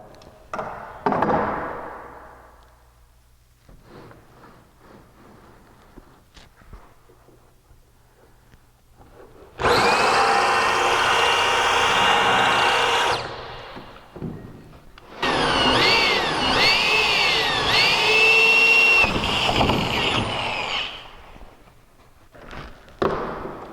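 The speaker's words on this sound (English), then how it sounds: "I'm going to go ahead and do the 3/8 hole on that end" A power drill bores a 3/8 inch hole through wooden Paulk workbench parts, heard as two loud, sustained whirring bursts with shifting pitch, separated by a short pause and framed by quieter handling knocks. No one speaks.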